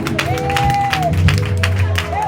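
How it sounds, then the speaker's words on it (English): A church congregation claps their hands in praise over organ-like music, the claps steady and fairly loud, with a voice calling out over them. "Somebody give Him a hand clap of praise."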